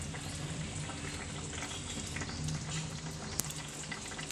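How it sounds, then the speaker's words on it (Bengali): Fish curry boiling in a pot gives a steady, close bubbling and simmering hiss that runs evenly throughout, with no one speaking. "এই যে মাছের ঝোল এখন টকবক করে ফুটছে,"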